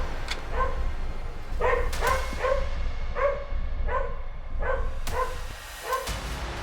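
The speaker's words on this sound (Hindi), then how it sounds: "कुत्ते फिर से भौंक रहे थे।" Dogs bark repeatedly in short clusters of yips and whimpering, howl-like cries, fairly close, spread across the whole stretch with brief pauses between.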